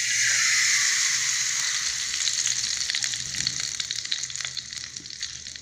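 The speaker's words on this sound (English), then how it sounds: "I'm adding my palm oil." Palm oil sizzles and crackles in a hot pan while yam pieces fry, a steady close hiss with scattered spitting pops that eases slightly toward the end.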